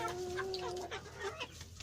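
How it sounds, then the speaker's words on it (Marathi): A Giriraja breed rooster of about four kilograms on a desi poultry farm clucks several times nearby in short, throaty calls against a quiet background. "गिरिराज जातीचा कोंबडा इथं आपल्याला जो समोर दिसतोय"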